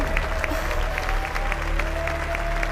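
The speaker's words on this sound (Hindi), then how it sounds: "तो आप सब इनके लिए तालियां बजाएं।" Applause from an audience cheering a game winner, a steady moderate clapping patter heard throughout with a faint constant tone beneath it.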